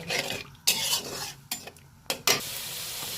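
Spices frying in a pan for an egg and potato ghati while a spoon stirs and scrapes them, with irregular metallic scrapes and clinks over a steady close sizzle.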